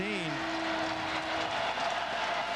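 A Clemson football crowd in a large stadium during a 2005 game against Temple, a steady wide roar of cheering that swells and holds across the whole stretch, with a faint tonal whistle-like line near the start.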